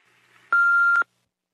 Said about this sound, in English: Please leave your name, number, and a brief message after the beep